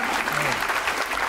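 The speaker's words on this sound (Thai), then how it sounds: "ปรบมือให้กำลังใจหมอเจิญหน่อยครับ" Studio audience applause on a Thai variety show, a dense steady patter of clapping filling the short moment at moderate loudness with a faint voice underneath.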